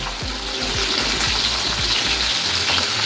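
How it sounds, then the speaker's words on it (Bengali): Cauliflower pieces fry in hot oil with turmeric, giving a loud, steady sizzle that fills the scene, with a few low knocks of a spoon against the pan early on. "কপিগুলোকে আমি ভালো করে ভেজে নেব লাল লাল করে"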